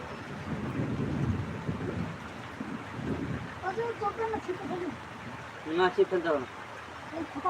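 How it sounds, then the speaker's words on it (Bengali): Heavy rain falls with low thunder rumbling, making a steady broadband wash with deeper swells early on, while voices talk over it in the later part. "এই দেখো বৃষ্টি হচ্ছে"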